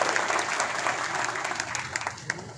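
Applause from an audience at an outdoor political campaign rally, steady clapping from many hands sustained throughout with a few sharper claps standing out, fairly loud and continuous.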